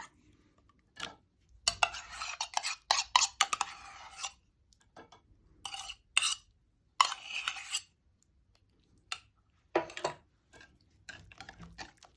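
A cup of yogurt beaten by hand in a bowl, heard as bursts of utensil scraping and clinking against the dish, close and intermittent, separated by short quiet gaps.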